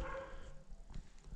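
A dog barks on a farm during barn renovation work; a few faint, short barks sit in a background of low rumble, with no talk.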